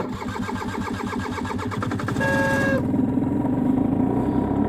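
A Hyosung Sense 50 scooter starts from cold at -5 degrees Celsius in Norwegian winter, its small engine cranking rhythmically for a couple of seconds before catching and settling into a steady, close, slightly high idle.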